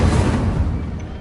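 An Incendio fire spell cast in a Harry Potter video game erupts as a brief, dense, rumbling burst of flame that fades over about a second, with no voices.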